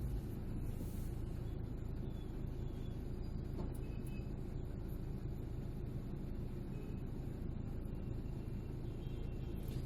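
Road traffic with a big red truck gives a constant low rumble of engines and tyres, steady and fairly distant for the whole stretch, with no speech.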